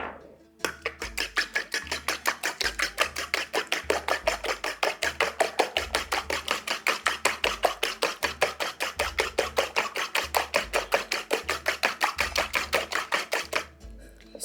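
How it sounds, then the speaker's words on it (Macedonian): Eggs are beaten with a little salt in a bowl, producing a fast, steady run of rhythmic whisk strokes for about thirteen seconds, loud and close, with no talking. "Ги матам со малку сол, јајцата ги матам."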